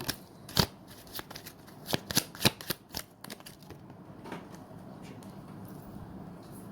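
Tarot cards shuffled up close: quick papery riffles and snaps in an uneven burst, fading into softer sliding and rustling of the deck.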